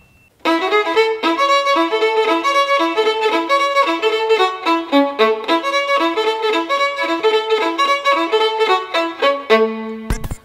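Solo violin plays a fast, rhythmic intro to a Romanian hora, with quick repeated bowed notes that imitate a cimbalom's hammering. It is loud and close, runs without pause and ends on a short sustained low note, with no talking.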